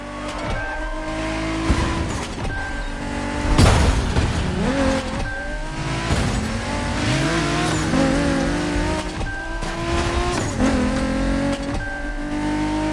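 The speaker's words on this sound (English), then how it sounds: "We have prepared a classic for you from a very famous German brand, the BMW Z4 M40i." A BMW Z4 M40i roadster engine in The Crew Motorfest on PS5 revs and accelerates through repeated gear changes, loud and close, with rising and falling engine tones and brief tire noise.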